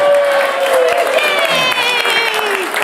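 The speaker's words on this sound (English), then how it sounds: "how about a round of applause?" An audience at a live bluegrass radio show applauds for a birthday, with a loud, steady burst of clapping and some crowd noise heard up close.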